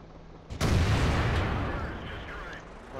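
Tank cannon firing in the World of Tanks video game: one sudden heavy boom that cuts in sharply and rumbles loudly, then decays slowly over a couple of seconds.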